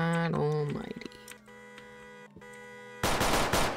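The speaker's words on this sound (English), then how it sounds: "No, that's shots fired." Gunshots in the Roblox Mano County game, a burst of rapid fire arriving near the end after tonal game sounds, loud and brief.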